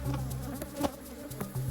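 Bees buzz in an apiary of aggressive hives near Nairobi, a close, steady insect drone with a few sharper passes of individual bees flying past.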